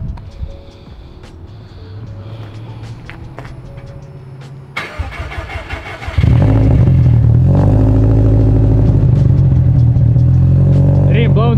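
Chatter and clatter nearby, then a Mitsubishi Evo's engine starts and roars loudly, revving hard and rough with its exhaust tip missing.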